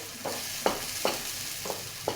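Onion mixture being sautéed and stirred in a pan, soft spatula scrapes coming in a slow irregular rhythm of about five strokes over a faint steady sizzle.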